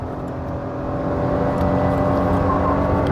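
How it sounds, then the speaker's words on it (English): A 2024 Maruti Suzuki Swift with an AMT gearbox under hard throttle, its engine groaning and straining with a steady, slowly building drone heard from inside the cabin. "there is a certain groan and strain from the engine that's seeping into the cabin"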